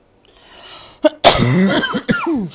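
A few harsh, forceful coughs close by, one short burst followed by a louder, longer fit with a raspy throat sound trailing off.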